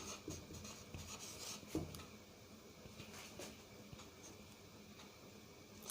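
Pen writing on paper, with soft, scratchy strokes and small ticks coming in irregular bursts at low level, close by, with no voices.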